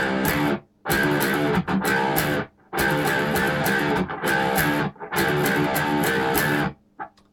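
Distorted electric guitar strums a slow pattern from a song, loud, sustained chord blocks separated by short silent gaps, with no voice.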